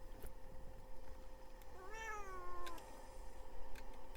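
A cat meows once, a clear drawn-out call rising then falling, heard close over steady background game music and ambience in a Vice City mission setting.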